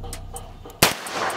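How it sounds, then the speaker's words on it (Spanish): A single loud, sharp gunshot from a Kuzey 911 firearm fired during a five-shot test series, cracking suddenly after a quieter stretch with faint tapping and background hum. "vamos a hacer lo mismo, una serie de 5 disparos"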